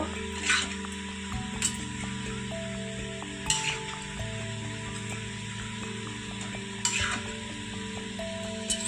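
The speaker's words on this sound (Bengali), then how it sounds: "আবারও 10 মিনিট পরে আমি ঢাকনা খুলে চিকেনটাকে নেড়ে দেব।" Chicken for kalo bhuna is stirred in a pan, with a few scattered scrapes and clinks over a low, even sizzle and a steady background hum.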